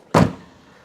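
An Alfa Romeo 105 car door pops open by its handle with a single sharp metallic thunk, close and loud, then a short fading decay.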